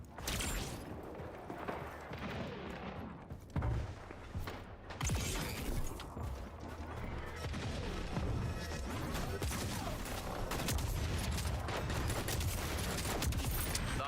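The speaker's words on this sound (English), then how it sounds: "I think this is a shotgun." Shotgun blasts and other gunfire crackle through a busy Splitgate 2 match, dense overlapping shots and impacts packed over continuous game noise, fairly quiet in the mix with no clear speech.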